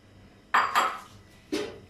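A metal spoon stirs whole spices, onion and garlic in a cooking pot for mutton pulao, with a few close, sharp clinks and scrapes in a quiet kitchen.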